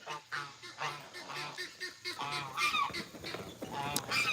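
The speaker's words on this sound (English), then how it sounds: "Is this baby goose? Yes, this is baby goose." A young goose at an animal sanctuary gives a series of short, raspy honks, close and fairly loud, repeating irregularly with brief gaps, and a few sharper calls toward the end.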